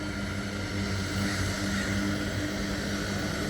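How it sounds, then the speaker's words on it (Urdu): Seaplane taking off from the water near Vancouver, its propeller engine giving a loud, steady droning roar that holds constant throughout with no voices. "یہ ہوا میں بلند ہو گیا، ٹیک آف لے لیا ہے اس جہاز نے۔"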